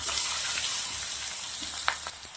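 Whole garlic cloves, sliced onion and red and green chillies sizzling steadily in hot tempering oil with cumin and asafoetida, a loud continuous close-up frying hiss with a few sharper crackles.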